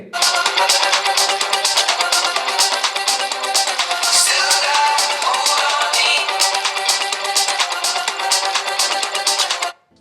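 A ringtone melody plays loud and continuously from the single built-in speaker of a smartphone for about ten seconds, then cuts off abruptly at the end.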